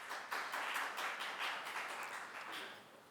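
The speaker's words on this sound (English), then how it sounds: "If you think that those for the motion won, then please clap now." A conference audience at an arbitration event claps to vote on a debate motion, producing faint, distant, uneven applause that swells and fades over about three seconds.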